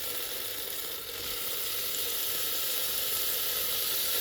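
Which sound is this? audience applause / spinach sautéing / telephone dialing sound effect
spinach sautéing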